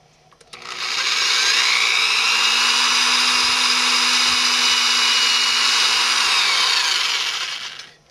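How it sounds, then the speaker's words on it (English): A power drill fitted with a 3/32 bit bores a tailpiece hole into the top of an Epiphone guitar, a steady high whine with a clear motor hum that spins up, holds for about six seconds, then winds down. "now we're going to drill the two top holes for the tailpiece."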